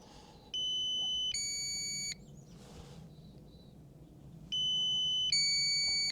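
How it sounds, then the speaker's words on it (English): A DJI Air 3S drone sounds its obstacle avoidance warning as two bursts of sharp, high electronic beeps, each a quick rising pair of tones, separated by quiet background noise while descending near trees. "Now we're getting our beep."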